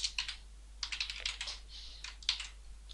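Computer keyboard typing while code is edited in Dreamweaver, quick irregular bursts of soft key clicks, close and fairly quiet, over a steady low electrical hum.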